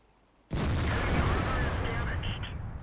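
An artillery shell hits a tank in World of Tanks, a single sudden loud blast that booms and slowly rolls off over a few seconds.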